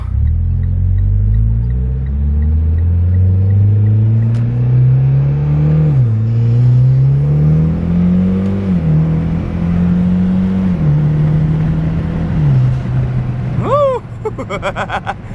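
Mitsubishi Lancer Evolution X engine revs up through several gears of its automatic transmission, pitch climbing then dropping at each shift, loud and close, with a brief squeal near the end.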